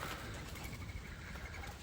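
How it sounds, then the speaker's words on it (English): Wild doves coo softly somewhere nearby, a short low call that sits over a faint outdoor background with nobody talking. "And these are wild doves."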